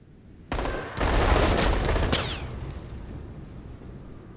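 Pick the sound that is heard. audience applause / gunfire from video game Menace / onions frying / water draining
gunfire from video game Menace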